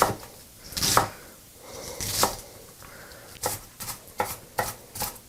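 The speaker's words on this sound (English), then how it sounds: "give her a good chop" Knife chopping food finely on a cutting board for a chicken marinade, heard as separated bursts of sharp, close taps, clustered at first and then quickening into a rapid run of strokes.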